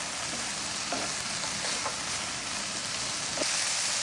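Meat and onion fry in a pan with a continuous hissing sizzle, occasional soft scrapes from stirring rising briefly above it.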